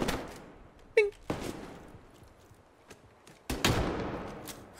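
Shots from a SCAR rifle in the Roblox game Deadline: a few sharp, close bursts spaced apart, with the last one ringing out into a longer tail, and no voices over them.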